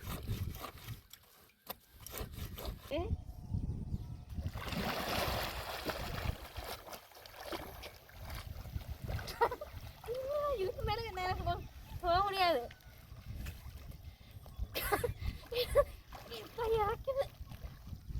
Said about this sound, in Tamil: நான் குளிக்க போகிறேன் நல்லா ஒரு நீச்சல் அடிச்சு விட்டு